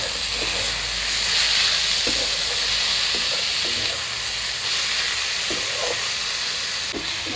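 Boiled banana flower and fried potatoes sauté in a hot pan, giving a steady loud hiss and sizzle with occasional scraping knocks from stirring; no one speaks.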